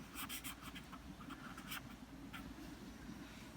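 Pen scratching on paper while trigonometry table values are written out, soft irregular strokes and taps over a steady low hum, fairly faint and without talk.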